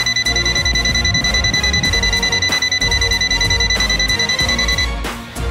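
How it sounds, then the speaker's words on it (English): An ANENG SZ18 multimeter's non-contact voltage buzzer sounding continuously on sensed voltage, a loud, rapid pulsing electronic beep that holds steady for about five seconds, alone with no talk. "buzz a sound when voltage is sensed."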